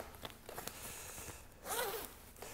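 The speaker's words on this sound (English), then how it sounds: "there's also another zipper at the bottom here" A zipper on a men's ski jacket is zipped in one quick close pull, preceded by a few light fabric rustles and taps, with no talking.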